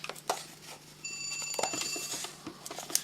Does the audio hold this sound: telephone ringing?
yes